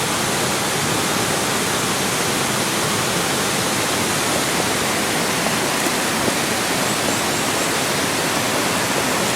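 Ichijo waterfall, where the swordsman Sasaki Kojiro is said to have mastered his technique, roars as a steady, dense, broadband rush of falling water that fills the whole scene without pause.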